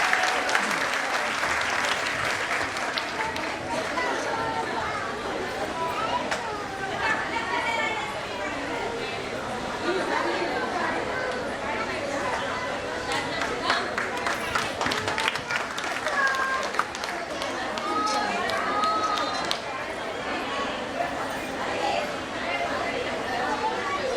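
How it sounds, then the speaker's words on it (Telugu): Audience applause after a women's day stage performance, sustained loud clapping from a crowd that carries on throughout, with chatter and voices mixed in. "అందరూ చప్పట్లు కొట్టారు"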